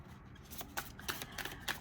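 Tarot cards are shuffled close by, with soft papery riffles and several crisp slaps in an uneven rhythm over a quiet background.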